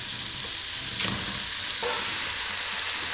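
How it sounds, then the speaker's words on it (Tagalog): Beef and softened onions sautéing in a pan for beef pares, a constant close sizzle with a couple of stirring scrapes. "At paglagay ng beef, ginigis ko pa to hanggang sa maging medium brown na yung kulay"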